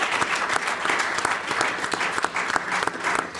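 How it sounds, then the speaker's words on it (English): Dense crowd applause at a live taping at the Paley Center for Media in New York City, full and sustained, with many hands clapping close together at a steady intensity. "I want to give a round of applause once again to everyone that made this happen"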